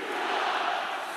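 Hockey arena crowd during an NHL game between the Nashville Predators and Buffalo Sabres, a steady loud roar of cheering voices that fills the whole moment without a break.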